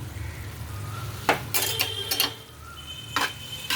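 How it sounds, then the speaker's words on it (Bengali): Pointed gourd and potato sautéing in a pan on a gas stove, with a low frying hiss beneath sharp clanks of a metal spatula scraping and striking the pan in short bursts. "একটা পটল আলুর কষা হচ্ছে"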